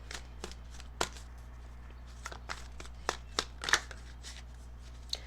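Tarot cards being handled and drawn, with soft flicks, slaps and sliding snaps scattered irregularly over a low steady hum, close but fairly quiet.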